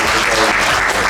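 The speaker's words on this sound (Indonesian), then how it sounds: "Kita berikan aplaus untuk" Steady, dense applause from a seated audience at a provincial government performance evaluation event in Papua, loud and continuous throughout.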